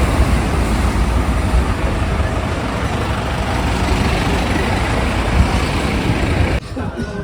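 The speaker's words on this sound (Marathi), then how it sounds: "कशा गाड्या चालल्या आहेत हायवेवरून" Steady broadband rush of traffic moving along a highway below a valley viewpoint, a continuous roar that holds level for several seconds before dropping suddenly near the end; faint voices may be mixed in.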